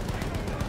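Rapid gunfire in Battlefield 1, a quick run of sharp, evenly spaced shots in a fast mechanical rhythm, fairly quiet and set against steady battlefield din.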